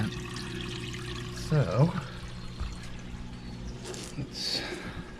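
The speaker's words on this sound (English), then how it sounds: "So now I'm gonna go ahead and do a water change." Water is poured during a water change in a tank for baby alligator snapping turtles, a steady pour and trickle with a brief gurgling splash, under low, close-up speech.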